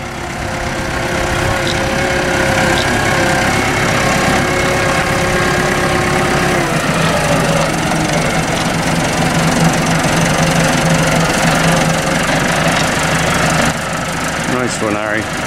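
A tractor engine runs loudly and steadily close by while loading silage bales, its rumble shifting partway through as the revs change, with voices talking over it.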